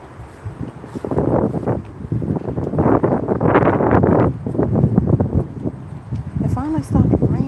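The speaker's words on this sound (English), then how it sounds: "It finally stopped raining, but it's super windy, like it's gonna storm some more." Strong wind gusts after rain in a garden, blustering against the microphone in rough, surging bursts, while a person talks over the noise.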